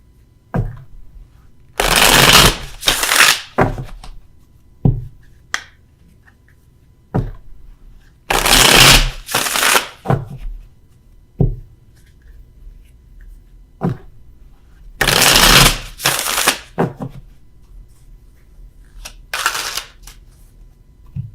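Tarot cards are shuffled in several loud, close riffling bursts, separated by quieter gaps with small taps and handling noises.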